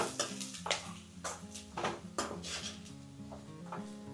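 Green chillies and onions frying in a pan with a pinch of turmeric for a bottle gourd curry, stirred with a spoon that clinks and scrapes in repeated strokes over a soft sizzle, close and moderately loud.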